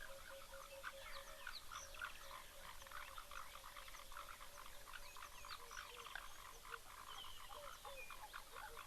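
Many frogs croak at a waterhole in a dense, continuous chorus of overlapping calls, with a steady drone beneath the repeated pulses and no talking.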